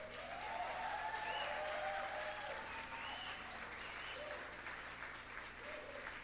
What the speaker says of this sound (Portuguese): Uma salva de palmas para os seus pastores.